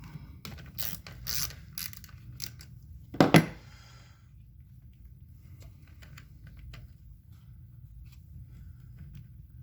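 A ratchet on a long extension loosens a spark plug on a 2016 Mini Cooper S (F55/F56). It gives quick bursts of clicking, then one louder clunk, and the rest is near silence.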